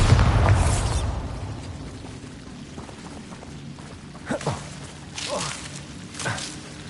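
Bombarda explosion spell cast in Hogwarts Legacy: a loud burst at the start decays into a rumbling tail, followed by a few quieter magical pops and whooshes further on.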